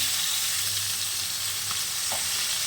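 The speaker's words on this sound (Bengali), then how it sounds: "মাছটা ভালো করে কড়া করে ভেজে নেবেন" Katla fish pieces fry crisp in a pan of hot oil, making a dense, continuous sizzle that stays even and close throughout, with a couple of faint clinks.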